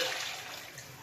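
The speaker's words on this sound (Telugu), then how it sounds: "ఇలా మిశ్రమం దగ్గర పడ్డాక దీంట్లో తగినన్ని వాటర్ పోసుకోవాలండి" Water is poured into a thickened masala mixture for dhaba-style egg curry in a pot, a brief soft splashing rush that tapers off quickly.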